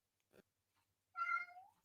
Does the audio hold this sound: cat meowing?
yes